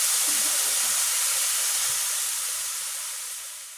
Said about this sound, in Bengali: কাঁচকলা ভাজা করছি